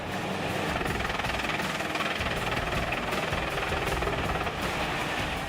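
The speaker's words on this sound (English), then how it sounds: "Pezolato PTH 1000/820M drum wood chipper uses a Caterpillar C15 engine with 540 horsepower." A Pezzolato PTH 1000/820M drum wood chipper, powered by a 540-horsepower Caterpillar C15 engine, roars steadily and loudly with a dense, grinding rumble that stays constant throughout.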